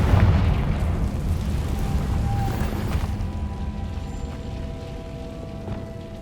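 A Confringo fire spell bursts in the Hogwarts Legacy video game: a loud, deep boom opens, then a heavy rumble slowly fades under a faint lingering tone.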